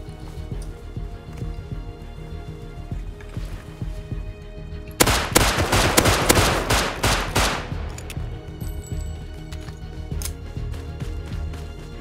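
A rapid volley of gunfire in the survival game Rust, a dense burst of shots lasting a few seconds amid quieter ambient game sound, with no talk over it.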